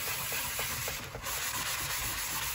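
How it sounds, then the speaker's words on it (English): A Creality Ender 3 printer's glass bed is sanded by hand in steady, rhythmic back-and-forth strokes, making a continuous close gritty rasp with no talking. "I just try to get a good sanding to get a good adhesion."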